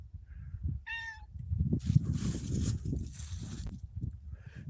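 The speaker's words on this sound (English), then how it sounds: "That cat, these cats never meow unless like there's something weird going on." A house cat gives a single clear, rising meow close by, followed by rustling and shuffling movement sounds, with a faint second call at the end.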